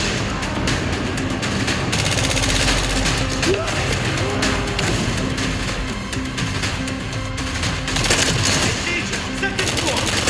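Sustained automatic gunfire with scattered explosions rattles through a video game trailer, dense and loud throughout, with shouted voices mixed in.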